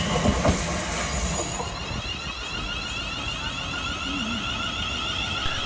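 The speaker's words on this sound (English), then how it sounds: "we see the departure of 380-103 working the 1540 Scotrail Cathcart Circle service from Glasgow Central through to Glasgow Central" A ScotRail Class 380 electric multiple unit pulls out of Pollokshields East station on the Cathcart Circle, a close, loud rumble of wheels and motors with a brief squeal and clatter early on, then settling into a sustained steady drone.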